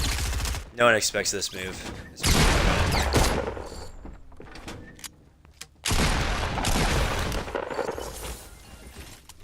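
Pump shotgun blasts in a video game, several loud, sharp reports spaced apart with quieter gaps between them, while someone talks over the action.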